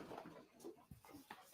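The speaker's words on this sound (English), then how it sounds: "I hear a dog coming." A puppy trots closer, its faint, breathy panting and soft snuffles coming in short, uneven bursts against a quiet room.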